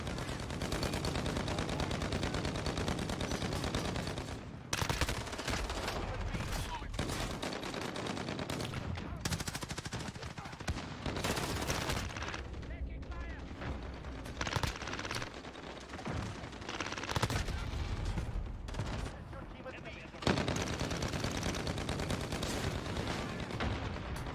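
Continuous gunfire in the video game Modern Warfare, with dense bursts of automatic shots and explosions packed together at high volume and only brief gaps between volleys.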